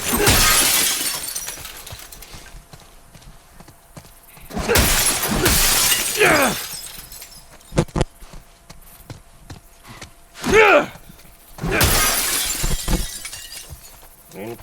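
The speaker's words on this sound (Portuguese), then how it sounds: "Nós vamos quebrar o vidro." Glass shattering in The Last of Us, several loud breaking crashes with tinkling debris spread across the stretch, separated by quieter gaps holding softer scrapes and footsteps.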